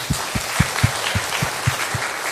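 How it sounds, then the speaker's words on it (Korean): A church congregation at a Korean Sunday service claps together in a steady rhythmic beat, about eight even claps over a continuous wash of scattered applause. "하나님께 영광의 박수 한번 올려드릴까요?"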